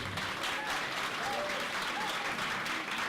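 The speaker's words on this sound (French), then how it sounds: "applaudissez s'il vous plaît" An audience at a live show applauds, dense continuous clapping from a crowd held steady throughout, with a few voices faintly mixed in.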